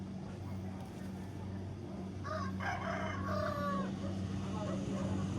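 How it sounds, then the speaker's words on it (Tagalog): A rooster crows a few times over a steady low engine drone, with scattered clucking and a busy outdoor background at a cockfight. "Ito may nagtutupada."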